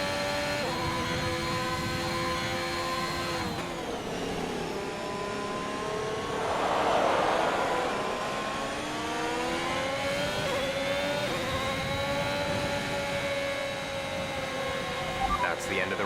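An F1 car engine in F1 2021, on the final lap of a rainy Hungarian Grand Prix, holds a steady high-pitched whine throughout, rising and falling with throttle and gear changes, loud and close.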